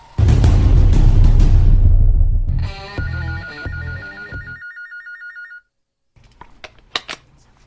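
A telephone rings loudly with a bright electronic ringtone, its repeated warbling tones breaking off into silence, followed by faint rustling and clicks.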